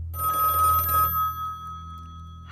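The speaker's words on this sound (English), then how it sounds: "she's startled when the phone rings" A telephone bell rings loudly and steadily for about a second, then its tone lingers more faintly while a faint click sounds at the end.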